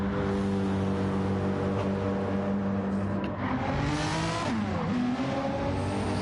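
A BMW M6 GT race car in a Gr3 racing video game at the Red Bull Ring drones with a steady, loud engine note. Near the end the pitch dips and sweeps as the car shifts or lifts off.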